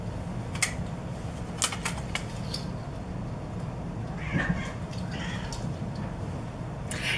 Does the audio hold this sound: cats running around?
yes